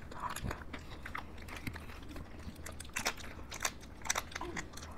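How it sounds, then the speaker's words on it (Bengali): Mother Dairy Rocket ice cream being bitten and chewed close to the mic during an ice cream eating challenge, with crisp crunchy bites and wet chewing in an irregular rhythm. "ফার্স্টে খাচ্ছি রকেট মাদার ডেয়ারি"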